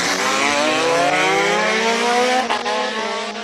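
A race car at a hill climb blasts past the speed traps, a loud close engine roar whose pitch climbs steadily as it accelerates, then breaks off sharply near the end, with no voices.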